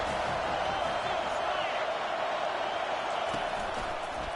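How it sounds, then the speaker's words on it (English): Crowd at a prime-time football game, a sustained, dense roar filling the stadium at a steady level, with indistinct voices blended in. "this crowd is turning it up a notch"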